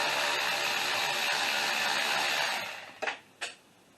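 A Toyota Prius valve-cover bolt drops during engine work and strikes a hard surface twice in quick succession, two sharp metallic clinks following a steady, loud blowing noise.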